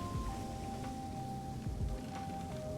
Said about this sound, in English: Why does it sound like this water is boiling?